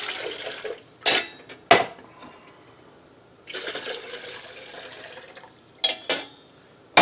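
Two cups of water poured into a coffee percolator, with splashing liquid bursts and sharp metallic clinks of the pot and lid, close and intermittent with pauses between.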